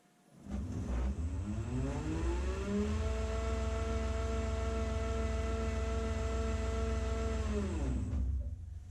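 A woodturning lathe spins a segmented bowl held in a steady rest, its motor winding up to a steady, close, droning whir with a tonal hum that holds for several seconds, then winds down at the end.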